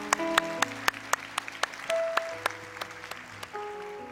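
A church congregation applauds the choir during a Sunday worship service. The applause is quiet and scattered, with a few distinct, sharp nearby claps over sustained instrumental tones.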